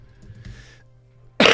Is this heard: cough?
yes